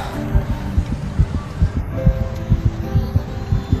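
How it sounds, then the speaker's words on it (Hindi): A fast heartbeat sound effect thumps loudly and steadily in a quick, regular rhythm of low beats over a faint background hum, with no talk over it. "ये तो अभी और भी तेज धड़क रहा है।"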